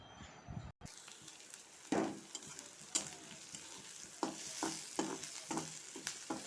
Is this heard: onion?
yes